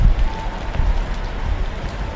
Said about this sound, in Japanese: 強い雨と風の中、